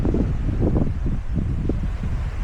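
Strong wind buffets the microphone at a mountain viewpoint deck, a loud, continuous low rumble that gusts unevenly throughout with no talking.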